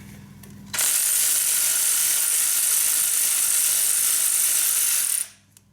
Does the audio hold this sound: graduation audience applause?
no